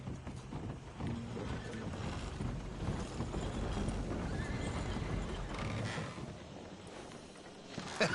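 Horse hooves clip-clop steadily at a moderate distance, with faint background clatter and a muffled, busy ambience.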